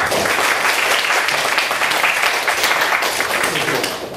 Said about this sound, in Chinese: 所以在这里呢我们就以最热烈的掌声欢迎刘教授